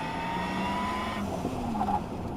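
A Porsche Taycan electric car launching makes a rising whine, with a brief squeal and a higher pitched tone near the end, faint and short with no talk.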